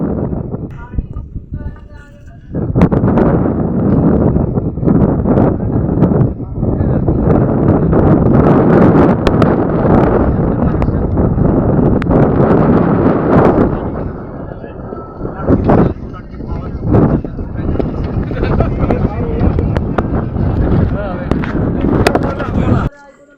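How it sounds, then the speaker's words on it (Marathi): Strong wind buffets the microphone at the Guru Gorakhnath peak of Girnar mountain, a loud, roaring rumble that surges in long gusts with brief lulls, heavy and close throughout. "इथे जोरदार वाहणाऱ्या वाऱ्याने आपले स्वागत केले आहे."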